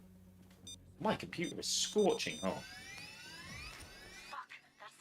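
A rising, repeating electronic alarm wail goes off in the video game Payday 3, sweeping upward in pitch several times over the second half while people talk loudly over the start of it.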